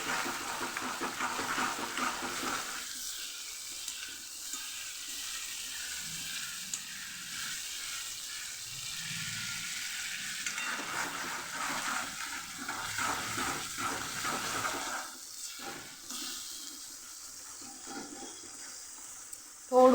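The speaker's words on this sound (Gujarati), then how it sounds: "બધું પાણી બળી જાય ત્યાં સુધી આપણે આને સાતળશું" Tomato, garlic and chilli chutney sautés in oil in a pan until its water cooks off, giving a steady, close sizzle with occasional stirring scrapes and no talking.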